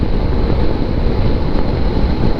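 Loud, steady wind roars and buffets past a motorcycle rider on a Tasmanian road, a dense rushing noise with no voice over it.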